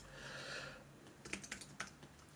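Typing on a Mac computer keyboard: a quiet run of soft key clicks and a few sharper taps in the second half, under faint room hiss.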